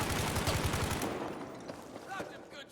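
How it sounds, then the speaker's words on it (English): Rapid machine-gun fire in Battlefield V, with dense loud bursts that fade after the first second into scattered distant shots and a brief voice. "Oh my god, that gunfire there."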